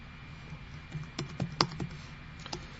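Computer keyboard typing, a quiet, close, uneven cluster of clicking keystrokes with brief gaps, alone over faint background hiss.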